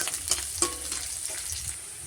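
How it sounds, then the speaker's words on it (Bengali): Onion pieces frying in hot oil, a steady close crackling sizzle with a few sharper pops, carrying on evenly throughout. "এবার তেলের মধ্যে আমি পেঁয়াজটা ছেড়ে দেবো"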